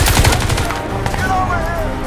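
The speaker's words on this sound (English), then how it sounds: "Watch the HMG!" Heavy machine gun fire in the Crysis 2 Remastered video game, a rapid burst of loud, close shots at the start, fading into continuous combat din with voices.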